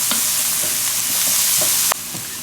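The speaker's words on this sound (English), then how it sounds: "We're going to stir this around a little bit." A spoon stirs carrots, celery and other vegetables softening in a pot for a chicken and biscuit casserole, with a steady loud sizzle and a few soft scraping strokes, no voices.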